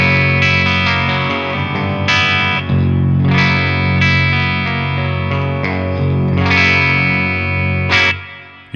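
A Kiesel Crescent 8-string electric guitar on its bridge pickup through a clean amp channel plays shimmering chords and arpeggios with a chorus-like sheen and reverb tail, loud and continuous until a final strum fades out.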